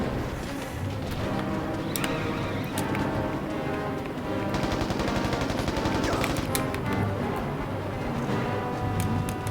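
Gunfire in Mercenaries: Playground of Destruction crackles in repeated bursts and single sharp shots over a dense, continuous background of game noise, loud and close throughout.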